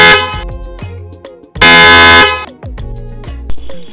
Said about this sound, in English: let's test out the horns first